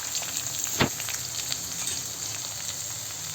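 Finely chopped onion frying in hot oil with cumin in a kadai, a steady soft sizzle with one sharp clatter as it goes in, close and fairly quiet, no voices.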